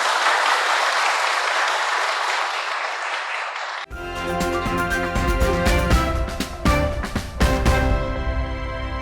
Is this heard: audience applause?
yes